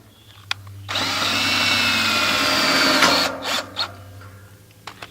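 A power driver runs steadily for about two seconds, driving screws through a bracket into the base and hip boards of a Zimmerman high tunnel, close and loud, followed by a few short clicks and knocks.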